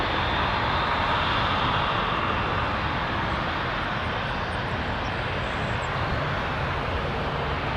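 An Air Canada Airbus A220 in retro Trans-Canada livery at Toronto Pearson produces a continuous, fairly loud engine roar that holds steady throughout without voices.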